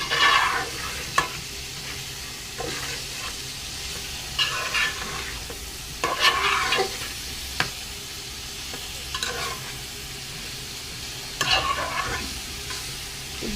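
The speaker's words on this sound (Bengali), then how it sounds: "এখন মশলা দিয়ে আরও কতক্ষণ কষিয়ে নিচ্ছি" Chicken sautéed with spices in a home kitchen pan; a constant low sizzle broken by bursts of spoon-scraping stirs and louder crackling spatters every few seconds, close and without speech.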